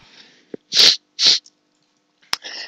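A person sneezes up close in two sharp bursts, each a loud breathy explosion, followed by a quieter sniff and rustle.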